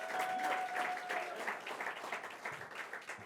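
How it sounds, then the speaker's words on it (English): Moderate audience applause at a ceremony opening a New York trade and tourism office in Puerto Rico, steady clapping from a crowd heard at a distance with a faint tone underneath. "Let's give her a round of applause."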